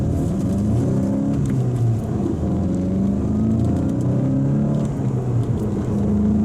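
A 2024 VW Golf GTI with 241 horsepower accelerates on the autobahn, its engine droning loud and steady from inside the cabin as the pitch climbs through the gears.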